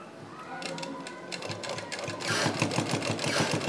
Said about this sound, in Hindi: और अब इसको वहीं से सिलाई दूसरी साइड भी लेके आएंगे।